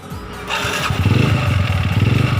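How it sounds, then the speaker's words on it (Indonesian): An electric starter cranks a motorcycle engine briefly before it catches, then settles into a loud, close, pulsing idle. "motornya udah hidup, starternya pun sudah nyala"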